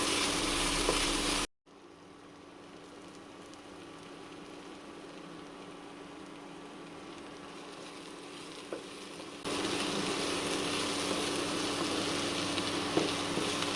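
Coconut pieces sauté in a pan for a home-cooked chicken dish, giving a steady, close sizzle and crackle that holds evenly throughout after a brief cut near the start, with no talking.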